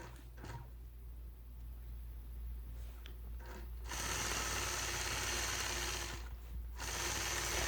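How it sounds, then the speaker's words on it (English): A sewing machine stitching in the ditch around a quilt block runs in bursts, a faint rapid mechanical whir rising louder and steadier in the second half, with small clicks between runs. "I'll start out by stitching in the ditch"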